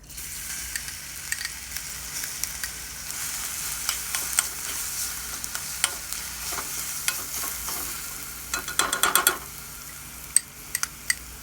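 Crushed garlic drops into hot oil with cumin and sizzles steadily up close, while spoon taps and stirring scrapes come in irregular bursts, clustering near the end.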